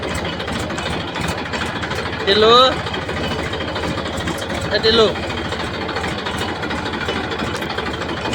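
A farm tractor engine idles steadily throughout, a constant low rumble with voices calling out briefly over it twice.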